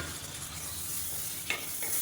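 Tomatoes sauté in hot oil with ginger garlic paste for chicken biryani, giving a close, steady sizzle with a few scraping stirs and no talking.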